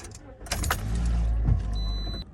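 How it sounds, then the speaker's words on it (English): A 2009 Pontiac Vibe is started: the starter cranks briefly, then the engine catches into a low, steady idle, with a faint dashboard chime near the end. "I'll turn on the car so you guys can see what shows throughout the screen."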